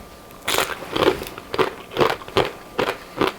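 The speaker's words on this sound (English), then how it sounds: "I like to hear that crunchy sound" Crunchy homemade tortilla chips bitten and chewed up close: about seven sharp, crackling crunches in a steady rhythm, loud and clear with no talking.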